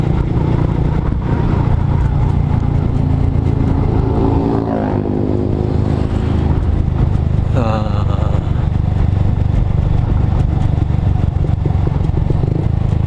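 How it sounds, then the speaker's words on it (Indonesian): A manual-clutch motorcycle downshifting into fourth gear on a descending mountain road, its engine droning loud and steady against heavy wind rumble, with two rising-and-falling rev swells partway through. "Kita ngurangin gigi sampai gigi 4 nih, gigi 4 dulu ya, karena ini masih lumayan belum terlalu curam."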